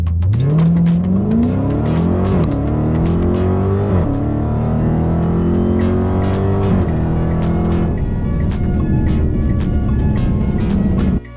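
A Dodge Hellcat on drag radials launching down a drag strip, its supercharged engine roaring loud and close as it climbs through several rising gear pulls in one sustained run.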